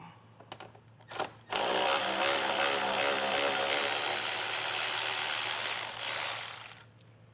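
A power ratchet or impact tool spins out 10mm bolts on a 2024 Jeep, a loud, steady mechanical whir running for several seconds up close, with a few brief taps before it.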